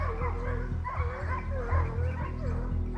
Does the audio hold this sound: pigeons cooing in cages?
no